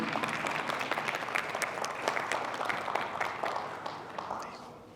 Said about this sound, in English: So can we please have a big round of applause